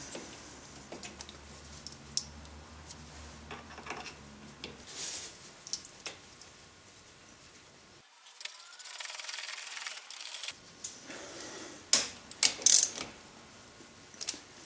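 Faint mechanical ticking and ratcheting of a torque wrench tightening front brake bolts on a 2008 Dodge Avenger, with irregular clicks, clunks and a few sharper knocks near the end.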